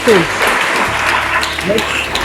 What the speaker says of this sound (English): A round of applause for this school.